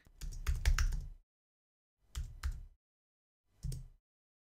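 Computer keyboard typing in three short bursts of rapid key taps separated by pauses, close and fairly quiet, with no voices.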